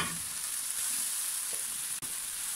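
Vegetables frying in a pan for a macaroni gratin give a steady, close, continuous sizzle with no talking.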